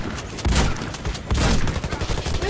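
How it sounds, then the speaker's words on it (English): Rapid bursts of gunfire in the video game Warface, loud repeated shots in a dense fusillade with a short lull in the middle. "Stop shooting me!"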